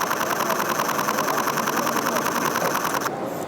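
An Olympus OM-D E-M1 camera fires a continuous 10-frames-per-second shutter burst, a fast, even mechanical clatter heard up close for about three seconds before it stops.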